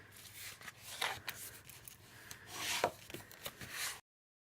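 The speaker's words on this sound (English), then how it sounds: "And now let's burnish some score lines." A bone folder or burnishing tool rubs and scrapes along score lines on cardstock for a gift bag, giving soft, uneven papery swipes and scratches up close that rise and fall, with no talking.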